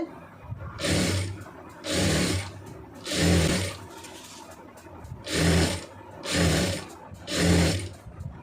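A sewing machine stitches piping onto a blouse in six loud, even bursts of rapid whirring, about a second each, separated by short quiet pauses.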